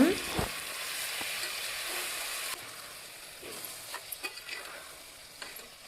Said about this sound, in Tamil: ஒரு வாட்டி நம்ம கரண்டி வச்சு நல்லா கலக்கி விட்டுடலாங்க